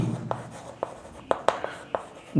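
Short scratchy strokes of writing on a board during a Class 6 algebra lesson come in a loose, irregular series of about seven distinct marks over a faint, quiet room background.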